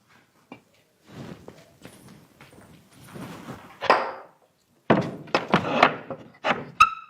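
A kitchen door is pushed shut and locked in a home, giving a series of dull wooden thunks, clacks and rattles with a few sharper knocks, fairly close and with no talking.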